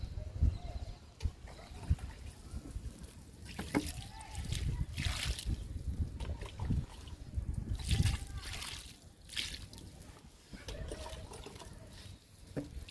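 Water pours and splashes onto garden soil being readied for sowing bean seeds outdoors on a sunny, breezy day, uneven trickling and sloshing bursts up close, with a voice speaking at times.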